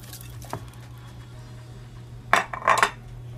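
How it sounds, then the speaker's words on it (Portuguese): Broccoli goes into a bowl in a home kitchen, marked by a faint clink near the start and a short burst of clattering utensils and dish contact toward the end, with no talk. "E vamos pôr o brócolis."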